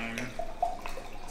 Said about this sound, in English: let me pour my wine